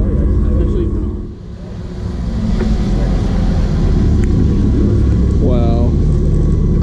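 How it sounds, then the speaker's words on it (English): Red, roofless Porsche Carrera GT with its V10 at a Chicago supercar meet rumbles loudly and continuously, dipping briefly before swelling again, with a short rising tonal whine near the end and background voices. "I haven't seen a CGT in so long. This is so refreshing. One of the best sounding V10s ever."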